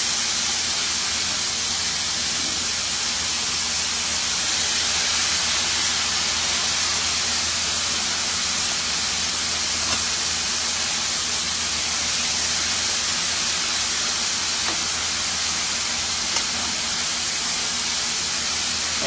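Chicken fries steadily in a pan on the stove, giving a loud, continuous hiss and sizzle that holds unbroken throughout, with no talking.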